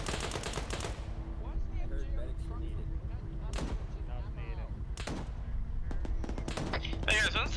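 Heavy .50 cal machine-gun fire in a first-person shooter game, rattling in short loud bursts at the start and a few sharp shots later, while players talk over voice chat underneath.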